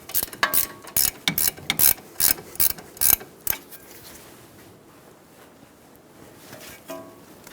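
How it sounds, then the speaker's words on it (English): Ratchet with a 17mm socket backing out caliper bracket bolts on a 2007-2011 Toyota Camry, a close series of quick clicking bursts for about three seconds, then quiet handling noise. "Using a 17mm socket, remove the caliper bracket bolts."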